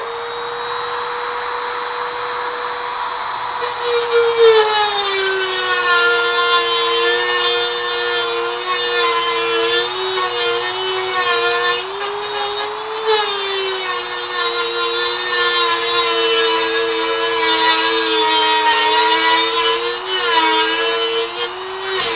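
A rotary cutting tool grinds a flat spot into a bolt on a 1948 Ford 8N tractor, giving a loud, sustained high whine whose pitch wavers slightly under load throughout, with no talk.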